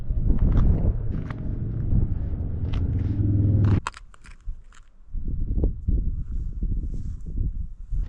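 Gusty wind buffets a cyclist riding outdoors on a bike with deep-dish wheels, a loud rushing roar for several seconds that suddenly drops away, leaving lighter intermittent gusts and rustle.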